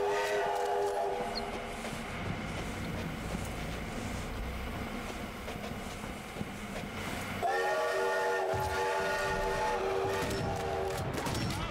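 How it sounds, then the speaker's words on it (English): A train whistle in the Sniper Elite V2 Remastered video game gives a long, steady tone over the rumble and rattle of a moving train. It drops briefly, then sounds again, loud and close. "There, see, now he blows the whistle."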